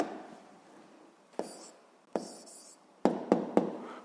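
A pen writes down an answer on paper in soft, close scratching strokes, with a few sharper taps and quick flourishes near the end, in a quiet room.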